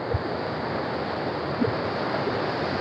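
A forest stream flows near Koshmal Waterfall in Dang, a steady broadband rush of water, loud and constant throughout, with a few faint low thumps like wind on the microphone and no voices.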